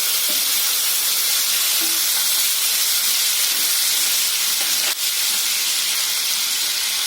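Ginger garlic paste sizzles loudly in hot oil with mustard seeds and cumin for a spiny gourd sabzi, a dense, steady hiss throughout with faint stirring scrapes and one brief click.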